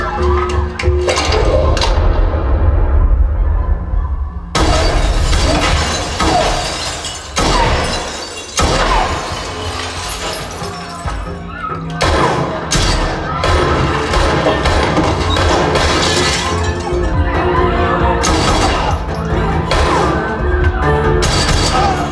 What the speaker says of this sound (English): So here's another quick demo of John Wick, the bar fight scene.